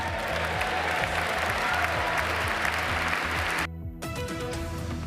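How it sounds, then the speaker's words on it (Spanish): A large crowd applauds a Donald Trump speech at his inauguration, loud sustained clapping for several seconds that cuts off abruptly and resumes more thinly at the end. "lo aplaudieron, una frase discriminadora"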